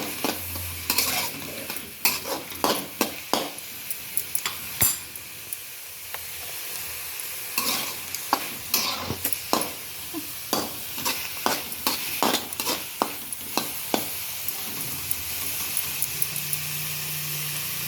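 Onions and garlic sizzle steadily in a pan while a utensil scrapes and clinks against it in frequent short strokes, close and fairly loud.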